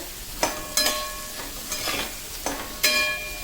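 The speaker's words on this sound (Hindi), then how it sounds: "इसको अब अच्छे से हमें बटर में फ्राई कर लेना है" Capsicum, beans and carrot sizzling in butter in a pan, with a gentle frying hiss under repeated clinks and scrapes of a spoon stirring the vegetables at uneven intervals, heard up close.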